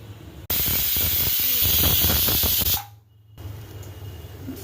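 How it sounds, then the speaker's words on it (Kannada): Grated coconut frying in a pan over high flame, a loud steady sizzle and hiss close up that cuts off abruptly partway, leaving faint background. "ತೆಂಗಿನಕಾಯನ್ನು ಸ್ವಲ್ಪ ಹೊತ್ತು ಫ್ರೈ ಮಾಡೋಣ"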